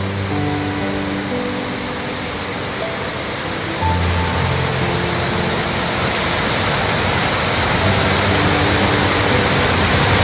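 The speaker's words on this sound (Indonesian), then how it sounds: "Ini kalian bisa lihat luapan-luapan dari Sungai Deli yang masuk ke kanal." Floodwater from the overflowing Deli River pours into a canal in Medan, a steady loud broadband rush like a waterfall that swells slightly midway and continues without any voices.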